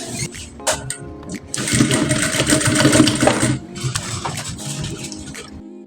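A sewing machine stitches corset bust caging in a loud, continuous whirring burst that then eases to lighter, stop-start stitching, with short pauses and handling noises between.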